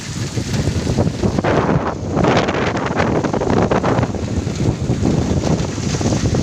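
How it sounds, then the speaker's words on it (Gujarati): Strong wind during a rainstorm buffets the microphone in a constant heavy roar with gusty surges throughout. "બહારાટી પવન આવ્યો ફૂલ"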